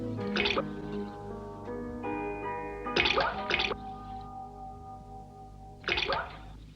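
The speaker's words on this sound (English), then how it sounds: "Water dripped from overhead and startled him." Water drips in a few bright, splashy bursts at irregular intervals over a quiet, humming background.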